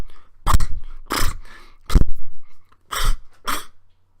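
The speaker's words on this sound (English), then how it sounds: "And that was the sound of stopping through a deep puddle." A person stomps through a deep puddle, with five separate heavy splashes in an uneven rhythm, each loud, close and wet with a short spray afterward.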